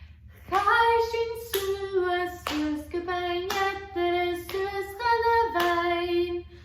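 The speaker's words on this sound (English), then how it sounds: "we're just going to tap our legs and then clap our hands" Hands clap together in steady time during a group music lesson for the song Beinn Eadarra, the regular sharp claps landing over sustained singing.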